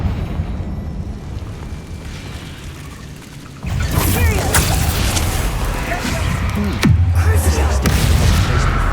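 A Confringo spell in Hogwarts Legacy blasts a barricade, a loud booming burst that follows a quieter stretch, with crackling debris and a second heavy impact; a voice speaks around it.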